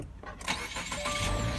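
A 2018 Subaru Outback engine starting, a short cranking burst that catches into a rising mid-pitched hum with a faint electronic tone, all in about a second and a half.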